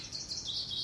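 Birds chirp and tweet steadily in the background while someone makes turmeric ginger CBD hemp tea, a thin continuous twittering that is faint but unbroken, with no talking.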